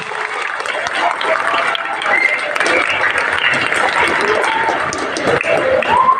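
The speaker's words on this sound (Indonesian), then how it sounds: "Kita beri aplaus untuk kita semuanya" Applause from a crowd at a school Youth Pledge Day ceremony, steady broad clapping sustained throughout with faint voices mixed in.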